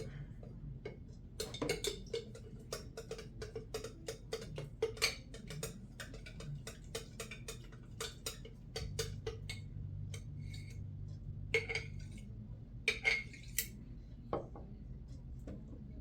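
A 200-year-old sourdough starter being stirred in a bowl, with quiet, irregular clinks and taps of a utensil against the container over a low background hum.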